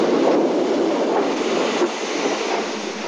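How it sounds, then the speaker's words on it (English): A steam tank locomotive, number 282, rumbles and hisses steadily nearby as it moves slowly along the track at Porto Trindade station, with no voices. "The 282 tank begins its maneuvers to run down onto its train."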